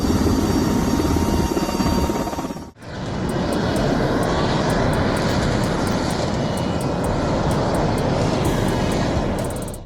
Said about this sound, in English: Is the helicopter fueling the pipe or fueling itself?